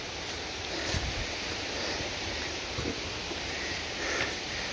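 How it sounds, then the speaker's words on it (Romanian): The Șipot waterfalls rush as a steady, broad, hissing roar heard from a nearby forest path, constant and fairly distant with faint occasional bumps. "Am văzut și cascadele și potului, pe care încă le auzim pe aici pe lângă noi."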